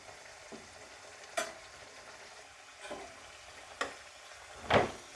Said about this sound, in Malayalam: പ്രസ് ചെയ്ത് കൊടുക്കുമ്പോൾ തന്നെ അത് ഫ്രൈ ആയി വന്നോളും